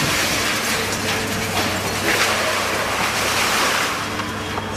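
Recycling machinery clanks and rattles steadily as scrap is flung onto piles, a dense, loud mechanical din with ratcheting clatter and a constant low rumble throughout.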